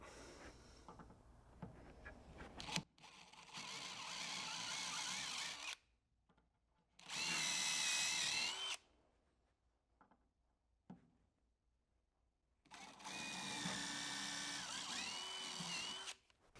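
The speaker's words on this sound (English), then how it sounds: "So I'm using an 1/8 inch drill bit, and this is what we're going to do." A power drill with a 1/8 inch bit drills into fiberglass in three separate bursts of several seconds each, with quiet pauses and faint handling noises in between.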